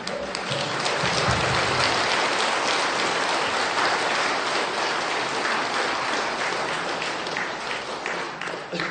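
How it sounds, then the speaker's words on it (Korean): Sustained audience applause after a Buddhist Dharma talk at a monthly temple service, a dense, steady patter of many hands clapping for several seconds with no voices. "다시 한번 뜨거운 박수 보내드립니다"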